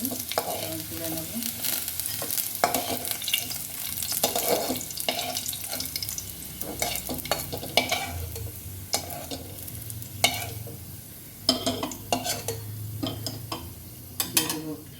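Potatoes frying in hot oil in a home kitchen pan, sizzling steadily while a spatula stirs and scrapes with irregular clattering knocks against the pan, close and continuous.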